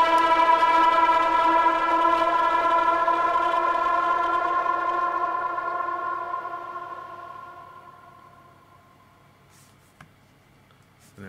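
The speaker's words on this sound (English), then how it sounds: "I'm going to call this ping 1 aggressive." An epic trailer ping sound treated with Sonsig Rev reverb: a single loud, bright tonal hit with rich harmonics that rings and slowly fades over about ten seconds into a long reverb tail, alone and without talk.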